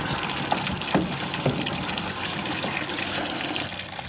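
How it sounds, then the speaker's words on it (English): A garden hose gushes water steadily, flushing debris out of a space, a close, continuous rushing splash with a few brief knocks and no talk. "we're just gonna take a garden hose and just stuff it in there and get all the stuff out"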